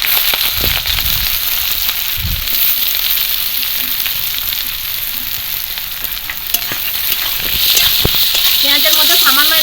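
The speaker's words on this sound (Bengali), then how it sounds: "এবার দিয়ে দেবো পেঁয়াজ কুচি" Chopped onions hiss and crackle loudly in hot oil with cardamom, cumin seeds and slit green chillies, with steady sizzling, occasional stirring scrapes, and brief muffled voices in the background.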